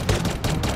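Gunfire in the mobile shooter game N.O.V.A Legacy: a dense, loud burst of rapid shots blending into a continuous rattling barrage with no pauses.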